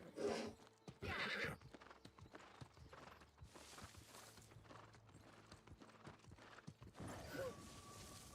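A horse in New World whinnies loudly twice near the start, then its hooves clip-clop steadily at a walking pace, with another neigh rising at the end.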